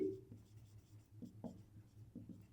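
A pen moves across paper while a math problem is worked out, making faint, soft scratches in short irregular strokes, close and quiet with no talk over them.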